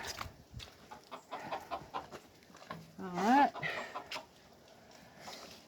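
A chicken clucks and squawks loudly near the middle, with someone speaking briefly and soft rustling around it.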